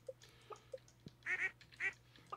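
Farm chickens in the video game Stardew Valley make short, soft clucks followed by a few louder squawking calls, sparse and spaced apart with no talking over them.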